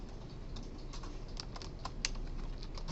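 Computer keyboard typing during a programming lecture: quick irregular clicks of keys being pressed, soft and close, with a few sharper taps, no voice.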